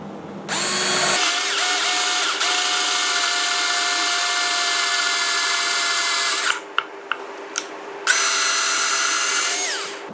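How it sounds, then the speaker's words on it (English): A power drill bores a hole to attach a flange, its loud, steady motor whine running for several seconds, then a few short stop-start bursts before it spins up again. "So I'm going to start drilling onto this hole to attach the other flange."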